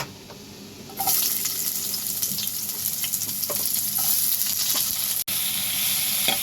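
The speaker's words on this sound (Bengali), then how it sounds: "আমার এখানে তেল গরম হয়ে গেছে। আমি এবারে পেঁয়াজগুলো এর মধ্যে দিয়ে দেব।" Onions dropped into hot oil for a Bengali steamed egg curry burst into a loud, steady sizzle after a quiet second, crackling continuously with a brief dropout near the end.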